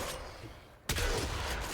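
A single heavy boom from the Corinth Prime shotgun in Warframe, fired alone after a quiet moment and trailing off into a loud, sustained rumble.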